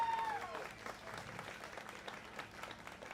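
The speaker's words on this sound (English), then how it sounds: "Let's show our appreciation to these exhibitors with a round of applause." An audience at a 4-H/FFA market hog show at the Umatilla County Fair claps in steady applause, a dense even patter of many hands that holds throughout and fades only slightly.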